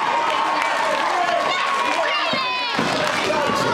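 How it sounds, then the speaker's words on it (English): A wrestling crowd roars and cheers after a drop kick, loud and continuous with a surge partway through, and a commentator talks over the noise. "Listen to the reception of the crowd based on this alone."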